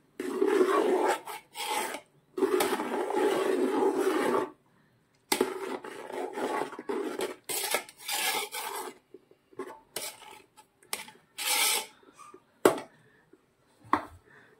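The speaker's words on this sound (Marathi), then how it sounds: "मी उलटण्याचा यूज करत आहे, कारण अशा प्रकारे आपल्याला सारण सुरुवातीला फेटता येतं" Spatula beating millet flour filling into water in a pan, a rough rasping scrape in steady bursts with short pauses, close and fairly loud, no talk.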